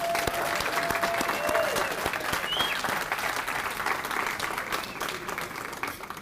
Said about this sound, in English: Let's have another round of applause for all of our group recipients